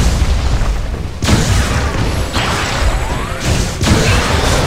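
Loud booming blasts and crashing impacts burst out in several bursts, dense and explosive, like weapon fire tearing through targets in a game, from a charged shot destroying enemies.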